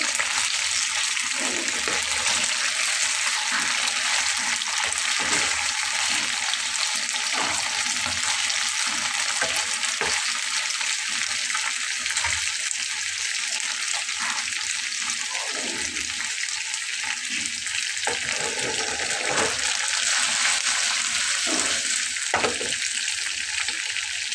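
Gule fish frying after being turned over in the pan, a loud continuous oily sizzle with scattered pops and crackles throughout, no talking.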